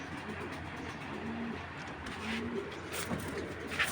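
Pakistani pigeons coo softly in a loft, two low drawn-out coos repeated amid steady background noise and faint rustling.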